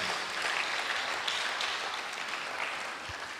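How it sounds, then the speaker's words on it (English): Audience applause at a Catholic medical and dental professionals' convention, a steady wash of many hands clapping at moderate level throughout, tapering slightly toward the end. "Please, another round of applause for Dr."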